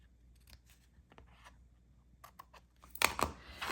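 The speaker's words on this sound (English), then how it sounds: "I'll take my snips. I'll just cut the ends off." Snips cut through the ends of papercraft material at a crafting table, a few quick crisp snips clustered near the end after quieter handling rustle.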